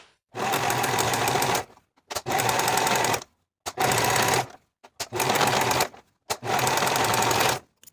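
A sewing machine finishes the raw edges of a jeans back pocket in five loud, close bursts of rapid stitching, each lasting about a second with short silent pauses between.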